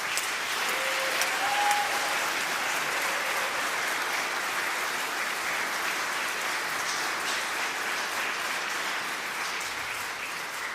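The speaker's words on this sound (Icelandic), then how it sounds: "Byrjum á kórnum og gefum Kór Lindakirkju dásamlegt klapp." An audience in Lindakirkja church gives warm, sustained applause to the Lindakirkja choir during an evening service, a dense even wash of many hands clapping that carries on without letup.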